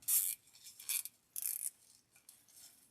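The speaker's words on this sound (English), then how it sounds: "zip tie those together" A plastic zip tie ratchets tight around grapevine wreath stems in several short, raspy zipping bursts separated by brief pauses, close and clear.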